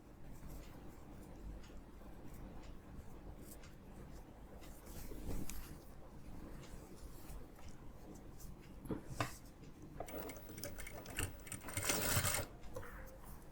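A sewing machine faintly stitches a simple topstitch to finish a garment piece, its quiet, uneven whir and ticking mixed with low room noise and a few brief louder bursts.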